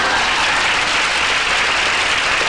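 Loud, dense applause from a theater audience at a magic show, steady and unbroken throughout.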